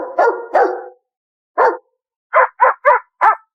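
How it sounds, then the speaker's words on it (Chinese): A hoarse dog barks frantically behind a closed door, two drawn-out barks followed by a quick run of short, sharp ones, loud and close with silent gaps between. "这不是普通狗叫， 他是在里面求救。"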